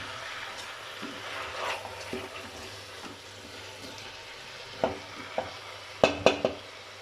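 Soft sizzling and stirring of turnips and meat frying in a pot, with a few sharp scrapes and clinks of a utensil toward the end, close and fairly quiet.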